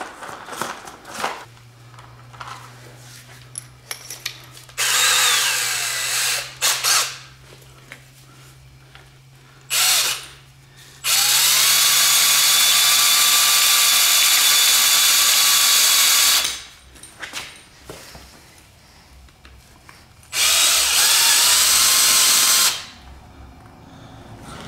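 A power tool cuts a piece out of a Mazda RX7 hatch strut in several loud, whining bursts, the longest lasting about five seconds, separated by quieter pauses with handling noise.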